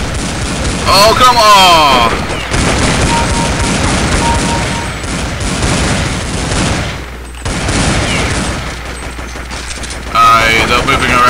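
Sustained rapid gunfire and booms in Counter-Strike 1.6 on a Mario Castle GunGame map, loud and nearly continuous with brief dips, and a man briefly exclaims over it.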